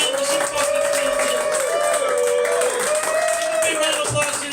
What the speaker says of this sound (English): Big round of applause to yourselves.